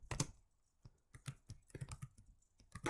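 Computer keyboard typing while entering code in Google Sheets, a quiet run of irregular clicks and key taps, some sharper strikes among softer presses, close by with no talking.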